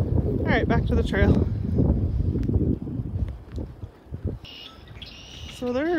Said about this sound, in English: So there's like 100 birds here.